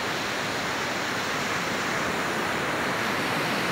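Heavy ocean surf breaks at Sawarna beach in Banten, making a constant loud wash of crashing waves and hiss with no talking.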